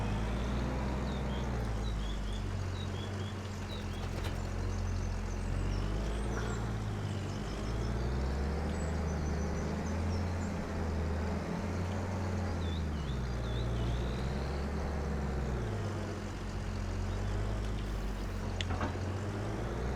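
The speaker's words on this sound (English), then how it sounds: "This harvester's got 86 hours on it." A combine harvester with 86 hours of use drives into a wheat field, its engine giving a steady, loud low drone with fluctuating pitch and a continuous mechanical rumble throughout.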